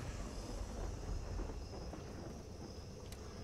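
Thunderstorm ambience in a tense video game, low rolling thunder rumble with a rain-like wash, faint and continuous with no speech.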